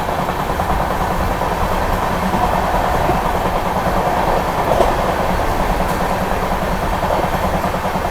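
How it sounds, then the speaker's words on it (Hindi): A Humsafar Express passenger train speeding through Aligarh Junction, its wheels clattering in a steady, continuous rhythm on the rails under a loud running rumble. "हाई स्पीड में भाई अलीगढ़ जंक्शन को स्किप कर रही है अपनी ट्रेन"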